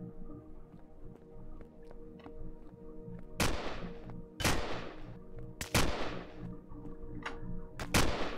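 Gunfire in the space survival game Empyrion Galactic Survival, with four or five sharp, loud shots spaced about a second apart over a steady low background hum.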